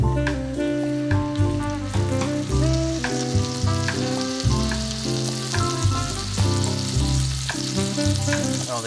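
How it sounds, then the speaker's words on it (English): Butter, garlic and rosemary sizzle and fry in a pan, giving a steady crackling hiss with occasional stirring clinks, moderately loud and close, with no talk. "Didn't exactly sizzle as much as I would like it to."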